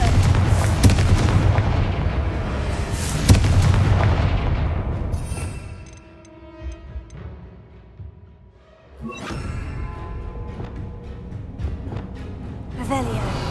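A Confringo fire spell explodes in Hogwarts Legacy with heavy booming blasts and crackling debris. The rumble fades to a quieter lull, then a second burst flares up. Talking can be heard along with the explosions.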